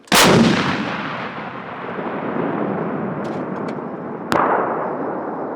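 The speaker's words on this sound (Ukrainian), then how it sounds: "Постріл!" A Ukrainian self-propelled NATO-calibre artillery gun fires during test firing with a booming blast that rolls off into a long rumbling decay. A second sharp report cracks out near the end.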